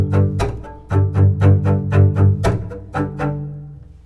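Double bass chopping exercise: a run of about a dozen bowed chop strokes in a steady rhythm, each note left ringing into the next with sustained low tones, ending in a fading ring. Played alone, close and fairly loud.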